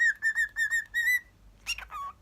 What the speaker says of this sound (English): I'm not very good at whistling